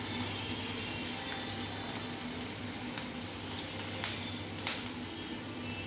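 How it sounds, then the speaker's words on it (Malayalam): Crushed ginger and garlic frying in hot oil for a Kerala-style squid curry, a soft even sizzle at moderate distance with a few small clinks of stirring, no talking. "എണ്ണ ചൂടായതിനു ശേഷം അതിലേക്ക് തല്ലി വെച്ച ഇഞ്ചിയും വെളുത്തുള്ളിയും ആഡ് ചെയ്ത് കൊടുക്കാം"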